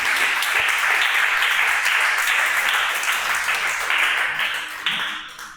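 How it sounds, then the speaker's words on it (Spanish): A church congregation applauds with dense, continuous clapping that holds steady for several seconds before tapering off near the end, filling the room loudly. "aplaude al que vive, grande es Dios."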